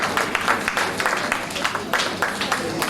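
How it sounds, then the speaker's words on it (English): Audience applause at a primary school public speaking competition, a steady wash of many hands clapping at close range, fairly loud and continuous for about three seconds with no voices over it. "Let's give Fina Bowens a round of applause from the Clare Valley Government School"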